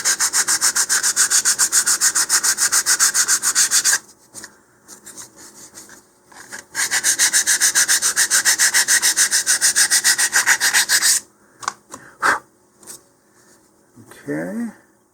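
A part of an Estes Big Bertha model rocket is sanded with 150 grit sandpaper, giving rapid, loud back-and-forth rasping strokes in two long bursts, with brief pauses, a few knocks and handling noises between them.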